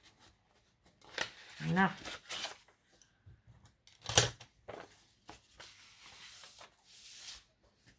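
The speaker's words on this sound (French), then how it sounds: "je vais venir piocher le bord de l'enveloppe avec mon plioir" A bone folder slides and scrapes along the edge of a paper envelope, with scattered rustles, crinkles and a sharp tearing scrape, mixed with quiet speech.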